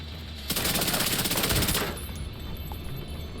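Chatterbox submachine gun in The Division 2 fires one sustained, rapid burst of close, loud shots lasting over a second, then cuts off, leaving quieter game ambience behind.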